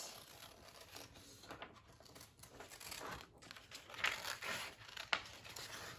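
Scissors cut out a hand-drawn paper picture of a bike, giving close, quiet crinkling and snipping paper sounds in irregular bursts, with a few sharper cuts near the end and no talking.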